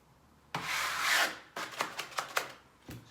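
A blade trims the bottom edge of a hung piece of wallpaper, giving a long close scraping rub followed by a quick series of short rasping strokes and one final scrape.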